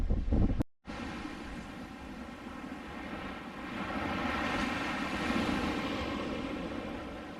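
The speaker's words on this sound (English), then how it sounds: "It's a bit windy on this side." Steady wind buffeting a microphone on a tropical beach in Suva, Fiji, a continuous broadband rush that swells slightly toward the end, with a brief dropout near the start and no talking.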